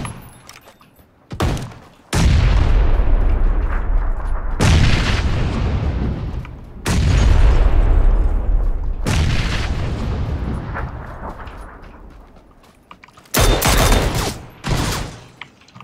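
Loud, separate booming gunshots from a PUBG Battlegrounds weapon on the test server, each with a long decaying echo, spaced a couple of seconds apart, then a sharper pair near the end.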